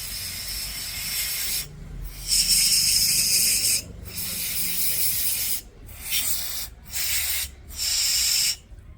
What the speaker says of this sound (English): Just keep on spraying it for a few seconds.